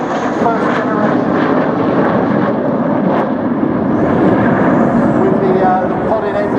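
A first-generation jet airliner with podded engines and engines built into the wing flies past at the Dunsfold Wings and Wheels airshow, a loud sustained engine roar filling the whole stretch.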